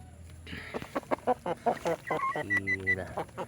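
Rhode Island Red chickens clucking close by on a mini farm, a run of short repeated clucks and squawks with a brief drawn-out call.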